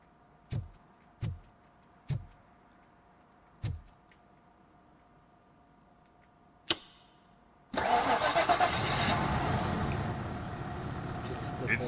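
Car engine in the video game Robocop Rogue City: several sharp clicks and a thud from failed attempts, then the engine catches and roars loudly, settling into a steady idle.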